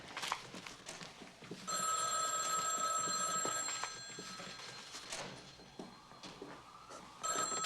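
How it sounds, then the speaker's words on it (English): An old-fashioned bell telephone rings indoors in two bursts of bright metallic trilling separated by a pause, fairly faint, with soft room noise and movement around it. "I'll get the phone."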